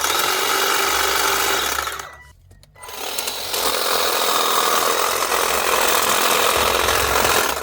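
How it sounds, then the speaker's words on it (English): Electric pruning shears buzz loudly and close while cutting back asparagus stalks, a harsh continuous motor whine that stops for about a second and a half, then resumes steadily. "I just remembered I do have electric shears."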